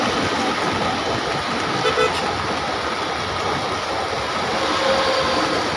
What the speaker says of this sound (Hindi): लोकल ट्रेन अपने समय के हिसाब से चल रही है